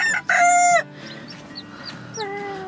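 A Ko Shamo hen gives a loud, close burst of harmonic clucking calls, followed by softer, higher chirps from her chicks scattered through the rest of the moment.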